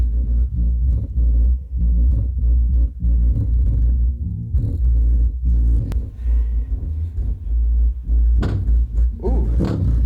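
A home theater subwoofer with its phase flipped pumps out loud, continuous deep bass rumble that stays near and heavy throughout, with some faint higher rattling above it.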